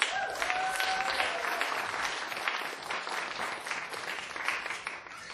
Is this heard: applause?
yes